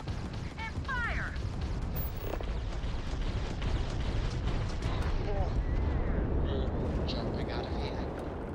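Spaceship weapons fire in Starfield space combat, rumbling booms and blasts with mechanical whirs layered densely over a continuous low roar, loud and busy throughout, with a voice talking over it.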